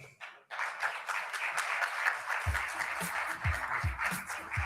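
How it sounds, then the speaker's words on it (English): A crowd breaks into sustained applause, dense clapping that holds steady throughout, with a few heavier thumps near the end. "So let's give a round of applause"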